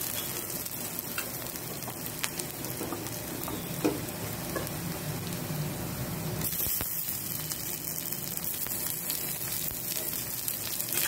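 Onions, tomatoes and curry leaves sauté in a pan for poori masala, giving a steady, close frying sizzle with occasional stirring scrapes and small crackles throughout, with no voices.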